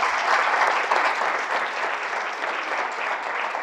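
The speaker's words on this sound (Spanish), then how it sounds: "un fuerte aplauso al Señor." A church congregation gives strong applause to God during a worship service in Andorra, a steady dense wash of clapping throughout with no speech.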